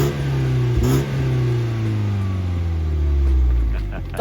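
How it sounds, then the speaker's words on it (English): A stock BMW 220i M Sport with a 2-litre single-turbo B48 engine revs steadily up and down, its low mid-pitched drone holding for several seconds with a brief dip near the one-second mark. "Morpheus, do you want to see what a 2-litre single turbo B48 sounds like?"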